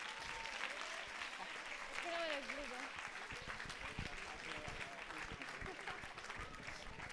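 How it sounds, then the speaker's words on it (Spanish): An audience at a science-week talk applauds the presenters, a steady wash of fairly faint clapping throughout, with a voice briefly talking over it partway through. "un aplauso para ellos, por favor."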